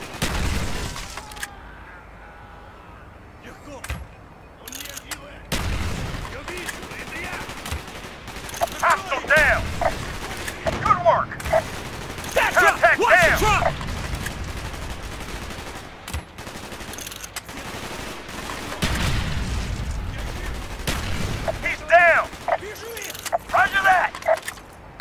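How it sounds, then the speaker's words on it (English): Gunfire in the Call of Duty Black Ops campaign, bursts of automatic shots and single cracks scattered irregularly across the scene, mixed with shouted voices and battle noise. "Gunfire's drawing attention."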